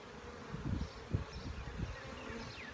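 Bees buzzing around an open hive during a hive check, a steady close-up drone with swelling bursts as insects fly near, continuous through the whole stretch with no talking.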